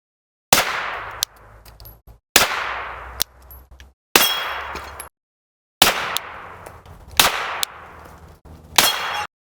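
Suppressed gunshots ring out against steel targets outdoors, each muffled shot followed by a sharp metallic clang with a decaying ring, in several groups of rapid strikes separated by short pauses.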